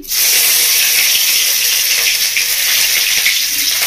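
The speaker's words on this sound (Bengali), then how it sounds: "এবার আমি তেলের মধ্যে দিয়ে দেবো রসুনের কুচি" Chopped garlic dropped into hot mustard oil for an Indian-style tomato soup, a loud, close, continuous sizzle that starts abruptly and holds steady with no talking.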